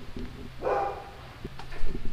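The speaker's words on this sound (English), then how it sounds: "frickin' dogs are barking" A dog barks a few times at a distance, fairly faint, with light background noise outdoors around a caravan being worked on.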